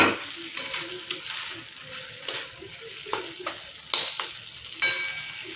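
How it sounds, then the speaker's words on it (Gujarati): Kathiyawadi onion curry frying in a pan, a continuous sizzle under repeated sharp scrapes and knocks of a spoon stirring, close and steady with no voices. "હવે આપણે ફેરવી લેવાની છે।"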